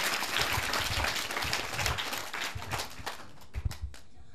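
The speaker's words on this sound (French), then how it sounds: "Applaudissez pour elle." An audience at a private school event applauds the school's first-cycle director with dense, loud clapping that gradually thins into a few scattered claps at the end.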